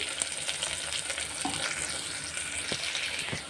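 Drumstick and tomato curry with turmeric, chilli powder and salt is mixed in a hot pan, a soft continuous sizzle with light scraping and occasional taps of a spoon, fairly quiet and close, no speech.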